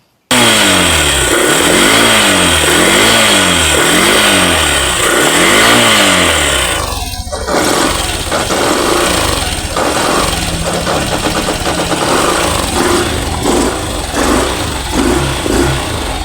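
A Yamaha YTX125 motorcycle engine, converted to a new carburetor, idles loudly and close with a steady throbbing putter that shifts slightly partway through.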